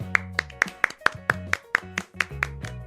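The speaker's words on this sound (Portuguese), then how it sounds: "vamos salva de palmas." A small audience claps in a quick, steady rhythm, with sharp evenly spaced claps over a low tonal background bed and no voices.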